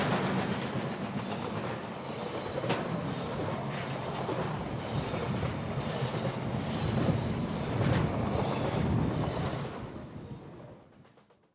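Freight train passing on a railroad in Muncie, a steady, loud rumble with clattering wheels and faint squeals throughout, fading out at the end; no talk.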